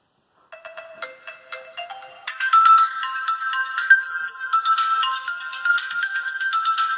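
Ringtone from a Vernee T3 Pro smartphone playing through its loudspeaker: a thin electronic melody starts softly, then jumps into a louder, shrill, busy tune with rapid repeating notes that continues without talk.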